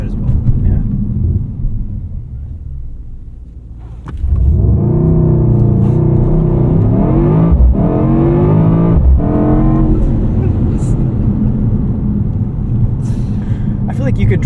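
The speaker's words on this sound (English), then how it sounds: "Let's do one more launch control," A 2024 Mercedes-AMG GT 63 S E Performance 4-Door launches hard from a standstill, its engine note surging loud and rising through gear changes after a quieter idle, heard from inside the cabin.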